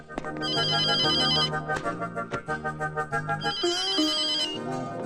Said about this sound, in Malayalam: നമ്മുടെ മഞ്ജുവിന് വിളിച്ചു പറയട്ടെ.